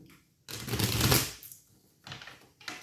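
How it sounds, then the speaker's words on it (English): Tarot cards are shuffled close up in a quiet room, a rushing riffle swelling for about a second, then a pause and shorter bursts of card riffling. "Clairvoyant shuffle."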